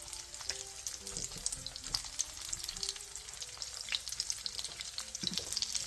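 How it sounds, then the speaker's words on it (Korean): Seasoned beef spread over spring cabbage leaves and brushed with egg wash sizzles steadily in a pan over medium-low heat, a continuous crackling fry with small pops throughout and no voices. "봄동 위에 밑간을 해놓은 소고기를 넓게 펼쳐서 올린 뒤 중약불에서 붙여주세요"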